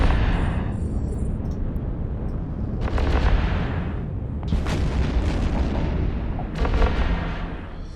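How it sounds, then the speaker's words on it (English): Ships exchanging fire in EVE Online, a few heavy booming shots with crackling bursts at irregular intervals over a dense, rumbling space-battle background, with no talking. "Who are they shooting at?"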